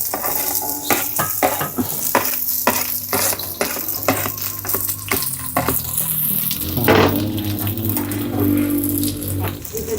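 Squash and onion sautéing in a pan for a Filipino bulanglang, with steady sizzling and repeated scraping and clinking of a utensil against the pan, plus a louder burst of frying partway through; a voice speaks over it.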